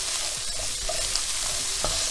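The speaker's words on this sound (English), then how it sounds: "I'm just going to stir that up a bit." Garlic ginger paste and mild curry powder being stirred in a hot pan for chicken tikka masala, a steady close sizzle with soft scraping strokes of the spoon running throughout.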